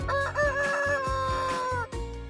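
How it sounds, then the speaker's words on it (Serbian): A rooster crows one long, loud cock-a-doodle-doo, close by, with a few soft rhythmic thumps underneath. "Petao je glavni budilnik na farmi, jer svojim kukurikanjem budi sve životinje čim sunce izađe."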